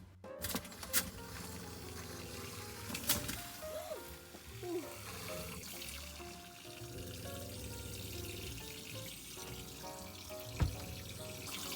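Cold water runs from a camper van bathroom sink tap, a steady splashing hiss with occasional clunks and knocks nearby.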